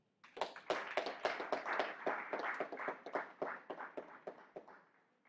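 A small crowd at a youth democracy forum claps together for several seconds, a dense patter of hands that swells quickly and then thins out toward the end.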